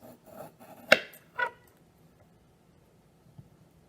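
A knife slicing an aloe vera leaf down the middle, heard as two crisp, close cuts about half a second apart, followed by near silence.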